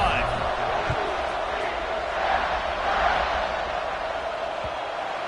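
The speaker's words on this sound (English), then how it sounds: "this crowd is feeling themselves after that last drive" Football stadium crowd at a college game, UCF versus UNC, roaring steadily through a kickoff, a broad sustained cheer with scattered whoops and a commentator talking over it.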